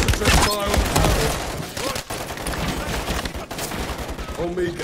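Gunfire from the video game Call of Duty Modern Warfare 3 roars in a dense, sustained firefight of rapid bursts and impacts, with soldiers shouting commands over the shooting.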